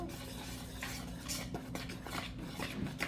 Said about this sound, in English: So I'm just gonna stir this together.